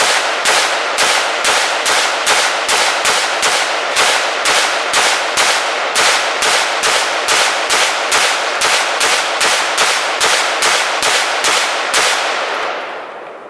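Rapid gunfire of about thirty rounds of 5.56 full metal jacket ammunition fired into ballistic barrier panels, a fast, steady stream of loud, sharp shots lasting over twelve seconds before stopping.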